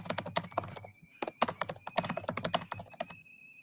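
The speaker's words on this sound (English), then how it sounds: "That's some aggressive typing." Fast, forceful typing on a computer keyboard, dense bursts of sharp key clicks with brief pauses, close and clear with no talking.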